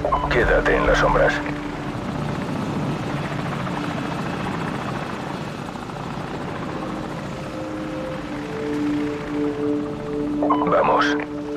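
An enemy helicopter in Call of Duty: Modern Warfare 4 drones steadily with a thick rotor and engine roar throughout, while short bursts of game voice chatter sound at the start and end.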